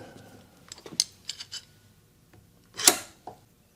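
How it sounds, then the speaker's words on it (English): Wooden workpiece for a three-legged stool clamped in place before chiselling: a few light clicks and taps, then a sharp, louder clamp knock near the end, close by and with no talk. "I'm going to clamp this into place here."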